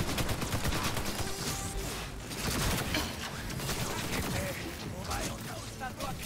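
Gunfire from Cyberpunk during a boss fight against Adam Smasher rattles in dense, steady bursts at close range, mixed with mechanical clanks and game effects throughout.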